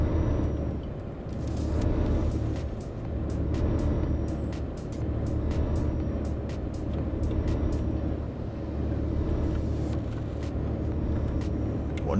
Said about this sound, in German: Ordentlich Verkehr hier.